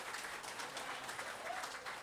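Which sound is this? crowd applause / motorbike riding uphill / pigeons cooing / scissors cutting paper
crowd applause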